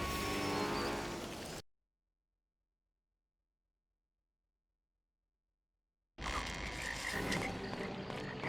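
Toads croaking in the video game A Series of Unfortunate Events come in two loud, dense bursts, one at the start and one at the end, separated by several seconds of complete silence.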